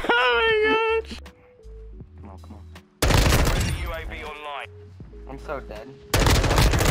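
Gunfire in a Modern Warfare 2 multiplayer match: loud bursts of rapid automatic fire crash in twice, with quieter game sounds and beeps in between, while a person speaks briefly over the action.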